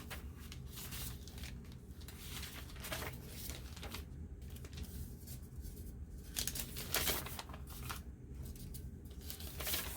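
Quiet rustling and shuffling of sheets of notebook, tea-dyed manuscript and graph paper being handled for a handmade book, soft crinkles and slides coming in irregular bursts.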